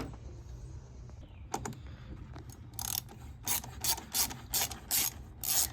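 Rapid ratchet wrench clicks while removing the intake from an Acura RSX Type S engine bay, coming in short close bursts of repeated ratcheting strokes after a few isolated metallic taps.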